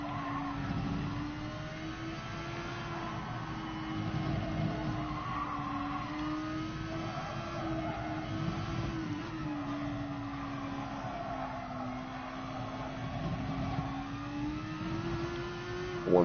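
Race car engine droning steadily with a wavering pitch, alongside scraping and skidding tire noise, as a driver struggles while stuck at Autopolis circuit in Gran Turismo Sport; continuous and fairly loud with no talk.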